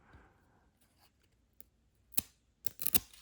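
A few sharp crackling peels of sticky 1991 Topps and 1994 Leaf trading cards pulled apart, papery and close, with quiet gaps between them and two louder tearing bursts near the end.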